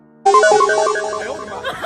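A phone ringtone plays a bright, stepping melodic tune that starts abruptly and keeps going, loud and close, while the call goes unanswered; no one talks over it.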